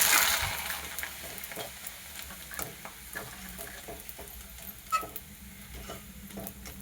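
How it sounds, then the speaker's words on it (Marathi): Papad frying in hot oil in a home kitchen during Holi cooking: a continuous crackling sizzle with scattered pops and ticks, close and moderately loud, with no talking. "पापड तळून निघते."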